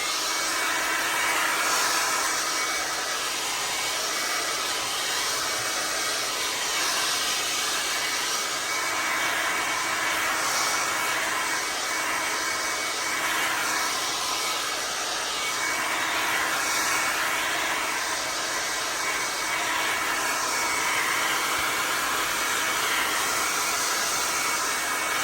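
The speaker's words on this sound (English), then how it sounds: "We're just going to dry that over quickly with a hairdryer" Hairdryer blowing over a blue leather jacket to dry it before re-dyeing: a steady, loud airy whir that runs unbroken for the whole stretch, with no talk.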